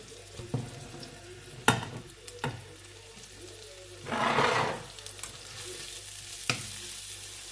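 Shrimp stir-fried with chili in a pan sizzles steadily at close range, with sharp clinks of a utensil against the pan and a louder surge of frying as ingredients are tossed in midway, with no talk.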